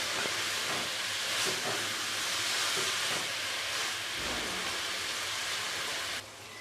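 Chana dal frying in a pan, a loud, steady sizzle and hiss that continues evenly for several seconds before dropping off abruptly near the end, with no talking.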